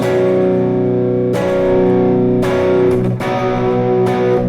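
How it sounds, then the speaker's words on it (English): Electric guitar played through a Zoom G1X FOUR multi-effects pedal on a distortion patch at maximum gain, heavily saturated sustained chords restruck about four times, loud and continuous with no talking. "This is maximum gain you can get from this."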